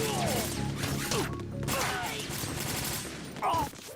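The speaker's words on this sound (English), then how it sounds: "Flashbang." A flashbang grenade detonating in Metal Gear Solid 2 on PS5, a sharp crash with a burst of rattling, crackling debris that trails off, followed by a brief later clatter.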